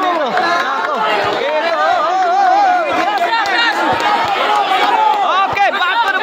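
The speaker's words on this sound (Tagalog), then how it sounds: "Ito yung crowd natin dito." Crowd at a one-on-one basketball game in Camagong Lahug, Cebu: a dense, steady hubbub of many voices chattering and calling out, close and loud throughout, with occasional sharper shouts rising above the babble.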